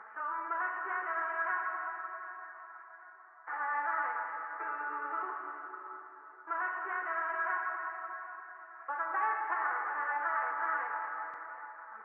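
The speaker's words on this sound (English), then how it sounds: "Listen to the vocal pad on its own just to hear what that reverb sounds like." A soft, sustained synth vocal pad plays slow chords, each change blooming into a long, washy reverb tail that lingers and smears into the next.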